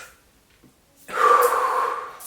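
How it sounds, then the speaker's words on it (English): A single deep breath drawn in through the nose after a quiet pause, a breathy inhale that swells suddenly and holds loud for about a second, close and alone. "Another deep breath."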